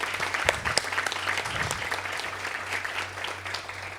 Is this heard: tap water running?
no